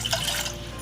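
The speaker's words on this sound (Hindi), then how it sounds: "इसमें हम 2 कप यानी करीब 400 ml पानी डाल देते हैं" About two cups (roughly 400 ml) of water pour into a pan on the stove in a steady, splashing rush that fills the short moment without pause, with no voice over it.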